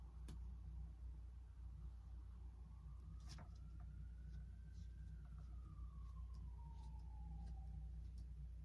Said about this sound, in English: As I'm hearing sirens outside.